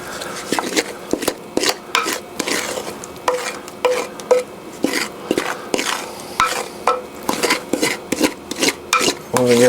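A spoon scrapes and knocks cooked southern butter beans with ham out of a heavy bowl into a pan, giving repeated close scraping strokes and clinks in a steady uneven rhythm, with no talking over them.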